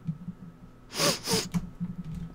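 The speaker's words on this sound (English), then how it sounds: "I need to sneeze so bad." A person sneezes while playing Minecraft, two quick close breathy bursts followed by a softer snort, faint against a quiet game background hum.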